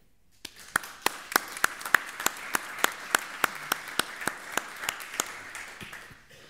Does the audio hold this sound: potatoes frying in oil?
no